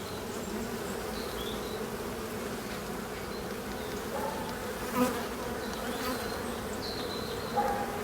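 Honey bees buzzing steadily at a beehive during a spring colony inspection, a continuous close droning hum with a few louder passes of individual bees near the microphone.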